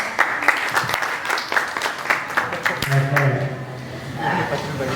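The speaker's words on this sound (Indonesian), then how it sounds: "Kasih tepuk tangan dulu, mana suaranya?" Scattered applause from a village youth organization debate audience, moderately loud clapping mixed with voices talking and cheering over it.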